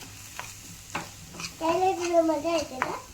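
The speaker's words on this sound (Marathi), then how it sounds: "त्याला हे मसाले आपण तेलात फ्राय करून घेऊया" Onion masala and spices frying in oil in a pan for an egg fry gravy, with stirring scrapes and a soft sizzle under a few tonal, voice-like sounds.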